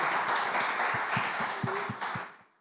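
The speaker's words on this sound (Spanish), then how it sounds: "el aplauso, claro que sí" An audience applauds in a dense, steady wash of clapping with a few distinct louder claps, and the applause fades away at the end.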